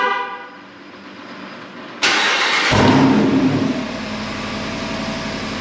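A Jeep's 392 V8 engine, remote started, cranks and catches at about two seconds, roaring loudly as it revs up, then settling into a deep, steady rumbling idle.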